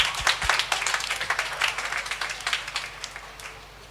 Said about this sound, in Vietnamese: Có một số bạn vỗ tay mừng sự trung thực và can đảm của các bạn.